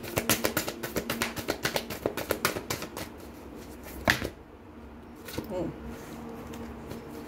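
Oracle cards being shuffled in quick repeated riffling taps close up, then a few looser slaps and shuffles, while a person speaks softly over the sound.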